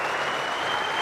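Cricket crowd at the Gabba in Brisbane applauding, a dense, steady roar of clapping from a large stadium audience, loud and continuous throughout.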